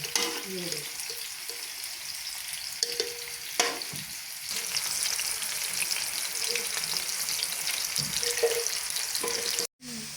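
Sliced onions frying in a pan over low heat for moong dal tadka, a steady soft sizzle with occasional clinks of a spoon stirring, fairly close, with a faint voice in the background.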